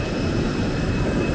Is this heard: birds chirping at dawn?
no